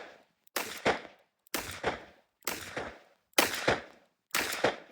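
Revolver firing a string of shots, five sharp loud cracks evenly spaced about a second apart, each followed by a brief ringing tail, with silence between.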